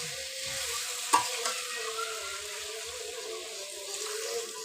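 Pumpkin pieces and spices frying in oil for a home-style pumpkin curry with fish, a steady close sizzle with soft stirring and one sharp utensil knock near the start.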